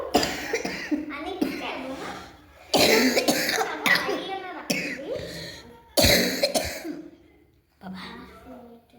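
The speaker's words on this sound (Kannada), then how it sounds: "ಶತ್ರುಗಳಿಗೂ ಬೇಡ ಈ ಥರ ಕೆಮ್ಮು" Several harsh coughing fits from a persistent, unhealed cough come in bursts with short pauses between them, close and loud, with some vocal sounds mixed in.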